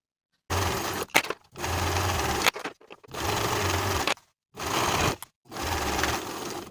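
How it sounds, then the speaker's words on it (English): A sewing machine edge stitches a pinned dress hem close to the upper inner fold, running in five steady bursts separated by short pauses, close and moderately loud. "Now I'll edge stitch close to the upper inner fold all the way around."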